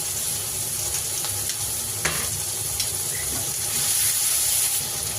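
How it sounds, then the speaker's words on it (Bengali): Chopped onion, tomato and ginger-garlic paste fry in a pan with a steady, close sizzle and hiss, plus a few faint stirring knocks throughout. "পেঁয়াজ আর টমেটো বেশ কিছুটা ভেজে নিয়েছি, দিয়ে দেবো 1 চামচ পরিমাণে আদা রসুন বাটা।"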